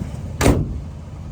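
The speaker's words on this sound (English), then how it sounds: "Let's go ahead and close this hood" A single firm thump as the large hood of a 1970 Chevrolet Monte Carlo is shut, close and solid with a short low boom and quick decay.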